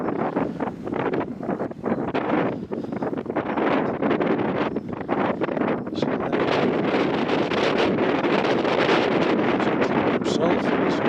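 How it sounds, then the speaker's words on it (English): Wind gusting hard outdoors on a drizzly day at the Sir Tatton Sykes Monument in Sledmere, East Yorkshire, roaring loud and continuous as it buffets the microphone throughout. "It's a bit windy today and it's very drizzly now."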